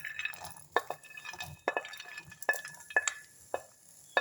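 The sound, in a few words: almonds lightly roasted on low flame in a pan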